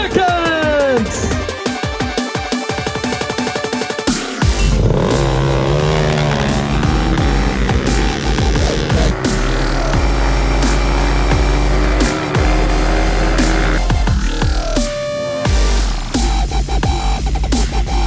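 Race vehicles roar around the Big Nasty course near Nashville, Indiana, loud sustained engine noise with rising and falling revs as machines pass close by, continuous throughout and without clear speech.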